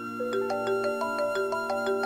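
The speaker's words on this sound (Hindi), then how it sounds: "फोन आ रहा है" A phone ringtone for an incoming call plays as a steady electronic melody of repeating tones, clear and fairly loud, with no talking over it.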